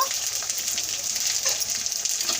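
Ginger garlic paste frying in oil with salt and chili powder, a dense continuous sizzle heard up close with light stirring crackles throughout, no voices.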